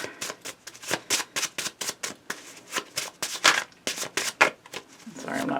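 Oracle cards being shuffled by hand, a rapid run of crisp riffling and slapping bursts in an uneven rhythm, close and clear, while someone talks softly.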